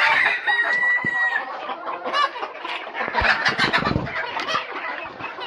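Domestic desi chickens cluck busily around a rooster of about two kilograms on a farm, with crowing mixed into the dense, close, continuous flock noise.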